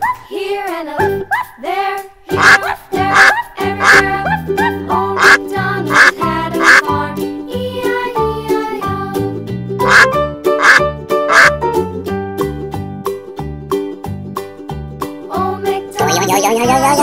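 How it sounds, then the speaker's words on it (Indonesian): Duck quacking repeatedly in a farm-animal name-and-sound sequence, bursts of quacks in quick runs over continuous music, loud and up front. "bebek,"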